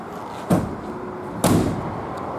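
Large side entry door on a Peugeot Boxer 335 Pro L3 H2 HDi van, two heavy metallic thuds about a second apart as the door slides and latches, close and loud over a steady background.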